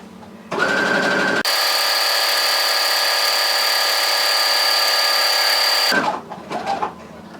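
A sewing machine stitches a cushion seam in one long, steady whirring run of about four and a half seconds, loud and close, with brief starting and stopping sounds on either side.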